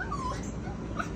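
Puppy whimpering softly in a steady, continuous stretch of whiny cries, close and fairly quiet, with no one talking over it.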